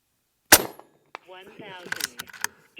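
A single sharp crack from an Umarex Gauntlet SL30 .30 caliber PCP air rifle, close and loud, with a faint metallic ring after it, then someone speaks briefly.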